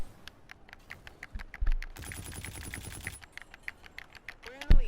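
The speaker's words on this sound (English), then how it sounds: "these paddles are a lot more clicky, and responsive than the Scuf paddles" Clicky paddles on a Strikepack FPS Dominator mod pack for a game controller, pressed in rapid sharp click bursts up close, alongside loud game gunfire in the middle and quiet talk.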